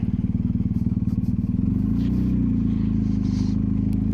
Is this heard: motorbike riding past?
yes